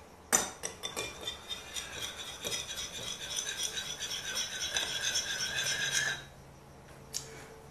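Milk is being mixed into shortbread ingredients in a bowl, rapid rattling clinks of a utensil against the bowl for about six seconds, then a lone tap, close up with no talking.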